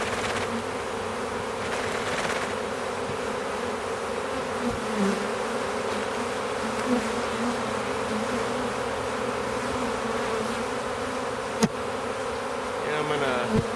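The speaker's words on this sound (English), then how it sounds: "The rest of the bees will start making their way here again." A swarm of honey bees, caught out of a house, hums around a box in a steady, close, continuous buzz, with one sharp click near the end.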